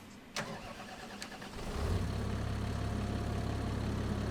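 A brand-new metallic burnt-orange tractor with black wheels in Farming Simulator 25 cranks and its engine catches at about 1.7 seconds, settling into a loud, steady low idle.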